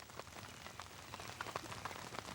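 Steady rain patters on a surface outdoors during a Michigan turkey hunt, a soft continuous hiss dotted with distinct droplet taps, fairly faint and close, with no voices.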